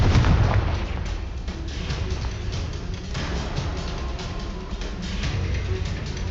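A sustained roaring rumble of blasting-spell explosions in the Hogwarts Legacy video game, loud and dense with a heavy burst at the start and crackling debris throughout, no speech over it.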